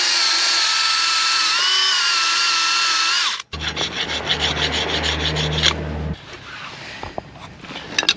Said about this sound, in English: after a bit of filing and using a wire brush again, we can feel this surface and it's much better